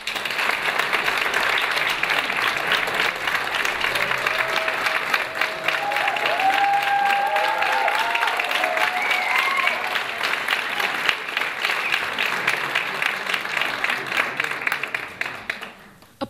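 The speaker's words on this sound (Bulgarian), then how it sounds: "Аплодисменти за Росен Парлапанов" A concert hall audience at a music academy diploma concert applauds at length, sustained dense clapping with a few cheers rising in the middle, then thinning and fading toward the end.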